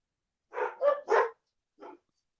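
Dogs barking in a film: three quick loud barks in a row, a short pause, then one softer bark, with no voices.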